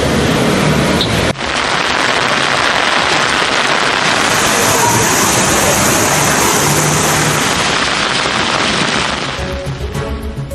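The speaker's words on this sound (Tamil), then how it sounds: "செங்கல்பட்டு மாவட்டத்திலும் பரவலாக மழை பெய்தது." Steady heavy rain pours continuously across the whole stretch as a dense, loud broadband wash, with a sharp break near the start and a slight easing at the end, no voices heard.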